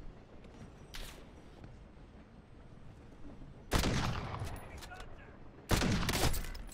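Gunfire in Call of Duty sounds as two loud, crackling bursts of rapid shots a couple of seconds apart, each with a rumbling tail, after faint distant pops under a low background.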